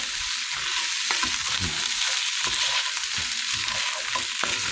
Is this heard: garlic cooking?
yes